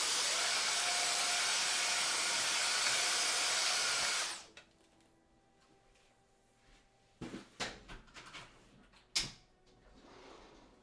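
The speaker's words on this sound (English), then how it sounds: "I'm going to quickly vacuum the top of my desk because it is kind of nasty" A vacuum cleaner runs steadily and loudly over a desktop, then shuts off abruptly, followed by scattered clacks and knocks of objects being handled.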